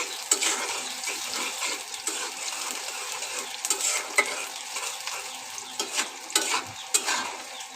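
Garlic and chopped onion fry for Bengali kala bhuna, a moderate steady sizzle broken by repeated scraping stirs and clinks of a utensil against the pan, close by with no talking.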